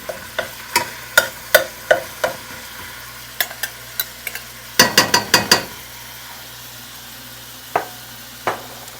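Ground pork and ground beef browning in a hot pan with a steady frying hiss, punctuated by sharp clicks and scraping taps of a utensil stirring, louder in a brief burst midway.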